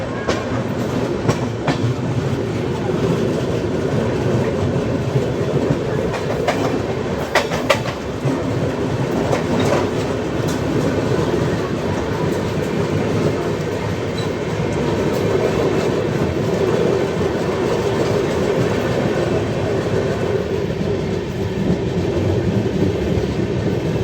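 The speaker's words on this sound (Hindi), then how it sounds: "से आ रही CSMT KSR बेंगलुरु सिटी उद्यान एक्सप्रेस।" The KSR Bengaluru City Udyan Express from CSMT thunders past up close, a continuous loud rumble with rhythmic clickety-clack of wheels over rail joints and occasional sharp clanks, with no voices.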